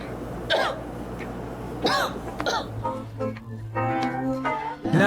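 Repeated coughing and throat clearing from one nearby person, several harsh bursts and hacking sounds spread across a few seconds, with a loud clearing near the end.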